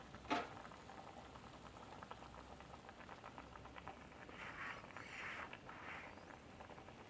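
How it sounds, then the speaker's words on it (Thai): Winter melon soup with boiled eggs bubbling in a pot, a steady low simmering hiss and burble with a brief knock near the start and louder bubbling swells toward the end. "เดือดบัวบัวบัวด้วยพี่น้อง"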